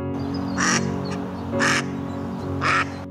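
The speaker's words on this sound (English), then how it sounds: "This mom, the duck, was really nervous." A nervous mother duck quacks three times at an even pace over a steady low background hum, the calls loud and fairly close.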